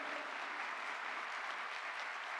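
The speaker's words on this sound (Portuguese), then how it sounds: "pedir uma salva de palmas aos nossos estudantes brasileiros aqui presentes" Steady applause from an audience at a Brazilian government event announcing CAPES and CNPq scholarships, honoring Brazilian students in attendance; dense, continuous clapping throughout.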